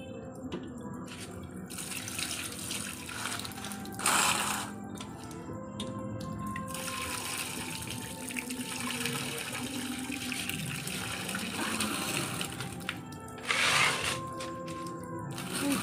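Tap water runs steadily into a kitchen sink while fish, including hilsa, prawns and catla, are washed, with a few louder splashes and gushes over the continuous flow and no speech.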